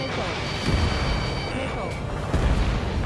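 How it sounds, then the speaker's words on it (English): Missile launch and explosion in the jet combat video game Ace Combat 7, with booming blasts and a rushing whoosh under steady engine roar, a second heavy thud near the end. "Missile away."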